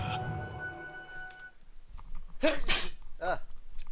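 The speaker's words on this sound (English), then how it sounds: "Sorry, I need to sneeze." A sharp sneeze bursts out loudly after a faint voice and background hum, followed by a smaller second sneeze.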